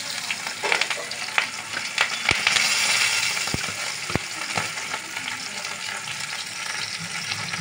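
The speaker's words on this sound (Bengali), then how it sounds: "একটু হালকা ভাবে ভেজে নিই" Bata fish lightly frying in hot oil in a pan, a steady crackling sizzle with scattered pops, a few sharp utensil clinks against the pan, and no talking.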